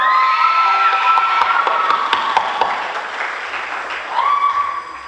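A military ball crowd at a high school JROTC event erupts in loud, sustained applause mixed with cheers and whoops for the prince and princess, with a shrill, steady tone running through the noise.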